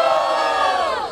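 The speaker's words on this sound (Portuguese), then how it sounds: "Barulho para as rimas do Dr. Free!" Crowd at a Brazilian street rap battle in Barueri, São Paulo, roaring and shouting loudly and continuously in one sustained burst that trails off at the end.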